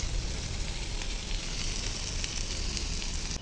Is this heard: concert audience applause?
no